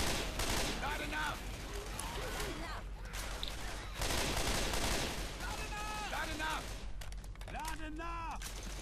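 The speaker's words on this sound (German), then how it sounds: "Ich mag das Geräusch, wenn ich schieße" Gunfire in the zombie shooter Left 4 Dead comes as rapid shots and bursts with game effects between them, while players talk over the action.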